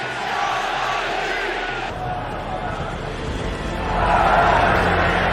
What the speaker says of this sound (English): So you can hear the chant in the background.